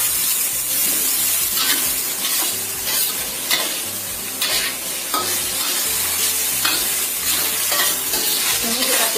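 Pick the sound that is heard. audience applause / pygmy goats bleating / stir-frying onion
stir-frying onion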